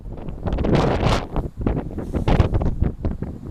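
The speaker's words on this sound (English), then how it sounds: "there's a lot of wind, guys" Strong gusting wind buffets the microphone outdoors, a loud, uneven rumble and roar that swells and drops in bursts.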